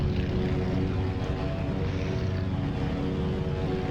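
Aircraft engine in Microsoft Flight Simulator during climb-out after takeoff, a loud, steady droning roar with a low propeller-like hum that holds constant throughout.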